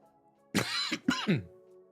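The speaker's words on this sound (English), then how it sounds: "Still got a bit of a cough" Someone nearby gives a couple of harsh coughs and throat clears in a brief burst, then quiet resumes.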